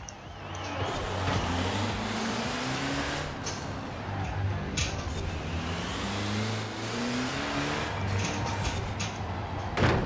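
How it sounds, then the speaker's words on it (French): Twin-turbo car engine in the Forza Horizon 4 racing game, a steady droning engine note with rising and falling pitch as it pulls through gears, with brief turbo whooshes. "quand t'entends ces deux turbos là qui soufflent"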